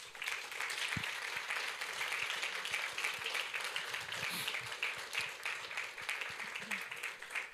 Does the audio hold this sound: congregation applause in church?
yes